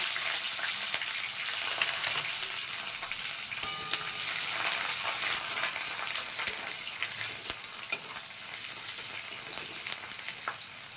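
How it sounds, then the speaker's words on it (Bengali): Whole spices and onion frying in hot oil in a kadai for an egg omelette curry, a steady dense sizzle with occasional crackles and spatters, close and continuous with no talking. "তেল গরম হয়ে গেছে, এবার গোটা মশলাটা দিয়ে দিলাম।"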